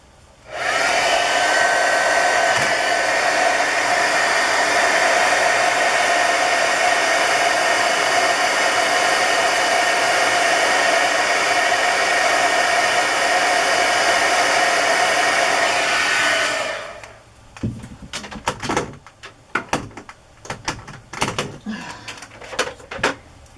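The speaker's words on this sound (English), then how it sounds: "Just going to hit that with the heat gun" A heat gun blows steadily for about sixteen seconds while drying craft tags, a loud continuous airy roar, then cuts off, followed by scattered close clunks and knocks as it is handled.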